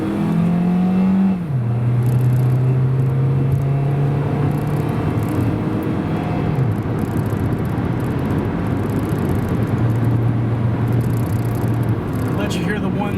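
A 2001 Toyota Corolla with a 1.8 liter 1ZZ engine accelerating on a freeway, engine droning loudly and pitch stepping through gear changes under steady road noise.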